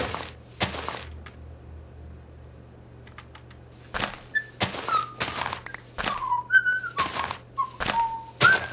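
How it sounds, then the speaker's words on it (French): A person whistles short, bright gliding notes in several bursts, interspersed with clicking keyboard and mouse sounds during Minecraft gameplay. "Tu me casses les oreilles à siffler, toi."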